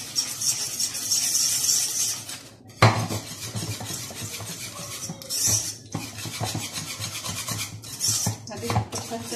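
Dessert ingredients stirred in a bowl for a simple Ramadan sweet: a steady scraping and clinking of a utensil against the bowl, close and moderately loud, with brief pauses between bouts of mixing.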